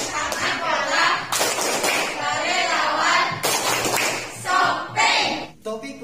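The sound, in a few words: tepuk kalong rhythmic hand clapping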